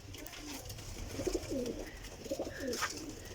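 Pigeons coo softly in a series of low, rounded calls, a few repeated phrases rising and falling at a moderate distance against a faint background hum, with no one speaking.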